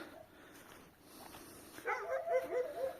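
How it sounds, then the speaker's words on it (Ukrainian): A dog barks and yips a few times at moderate distance, short bursts coming in the second half over a quiet background in winter. "Пес гавкає."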